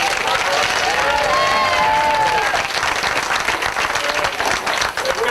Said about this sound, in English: how about a round of applause for Bob?